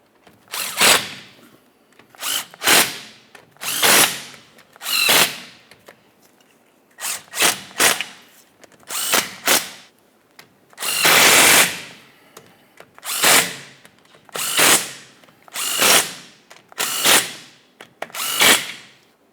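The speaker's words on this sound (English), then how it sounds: "Once they're all started in, snug them up." A power tool on a 2004-2008 Ford F-150 rear axle runs in about a dozen short, loud bursts, each a whirring rattle stopping with a brief pause, as it snugs up bolts during a wheel seal replacement.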